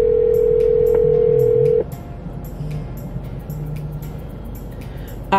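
A telephone gives a loud, steady dial tone for almost two seconds, and quieter dialing and line sounds follow.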